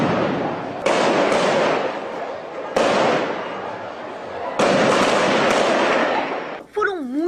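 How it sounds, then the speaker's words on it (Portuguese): Heavy weapons fire erupts in repeated loud bursts across the Mangueira community in Rio, several long rattling volleys separated by brief pauses, ending with a short warbling tone. "Foram muitos tiros, de armas pesadas de diversos calibres."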